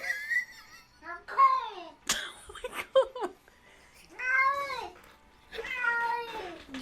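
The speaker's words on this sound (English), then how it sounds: "I gotta show you this cat. It's the best cat." A pet cat meows repeatedly, a series of separate close, clear calls of varying pitch and length, alone with no talk.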